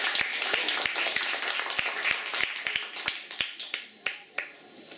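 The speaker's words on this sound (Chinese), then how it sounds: "掌声欢迎" A small audience claps to welcome a music director on stage. The claps are scattered and uneven, then thin out into a few isolated, sharp claps.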